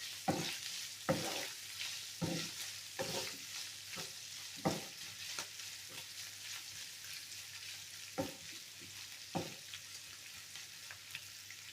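Meat frying in fat in a pan, a quiet, steady sizzle with regular soft scrapes and stirring knocks at intervals, heard alone without speech.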